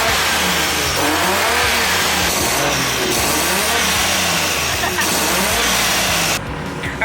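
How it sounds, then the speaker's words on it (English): A car engine with a blow-off valve revs repeatedly in rising and falling surges, loud and close, with sharp whooshing releases between pulls before it settles briefly. "Your blow valve is actually making cool sounds."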